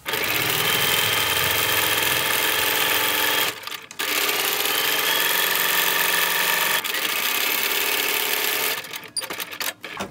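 A sewing machine stitches a log cabin quilt block in a steady, loud, continuous whir, pausing briefly twice before running on, then tapering into stuttering stops at the end.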